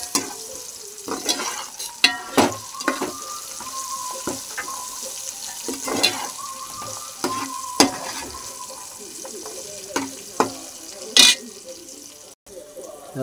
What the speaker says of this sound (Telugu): టమాటా వేగుతున్నాయి.